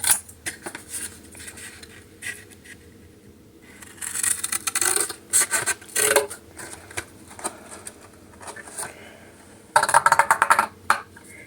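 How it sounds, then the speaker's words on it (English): A circle is cut out of a cardboard box for a homemade Valentine's Day box: irregular, crunchy cutting and scraping bursts, close and moderately loud, with quieter gaps between them. "I'm just gonna cut along that line and then cut a circle out of"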